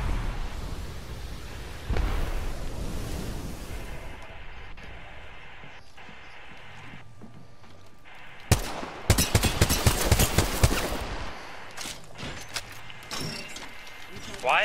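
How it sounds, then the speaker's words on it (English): Gunfire in the battle royale video game Apex Legends, an Arenas match: dense bursts of rapid shots crackle loudly in the back half, over a rumbling, noisy game soundscape with a sharp hit early on. "Why are they shooting?"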